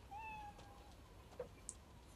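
A cat meows in a TV show scene, one drawn-out mew near the start followed by faint soft sounds, quiet with no speech.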